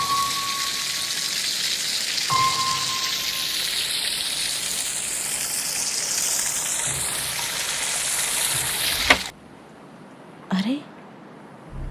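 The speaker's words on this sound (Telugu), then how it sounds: "ఈ వర్షం ఎప్పుడు ఆగాలి?" Heavy rain falls in a steady, dense hiss for about nine seconds and then stops abruptly, with brief knocks and a short thud in the quiet that follows.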